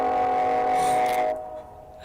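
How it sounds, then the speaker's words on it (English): A loud train passes near a rail camera, a dense droning rumble with steady horn-like tones that fades off toward the end. "That was another loud train in the background, by the way, from the rail cam that we still had up."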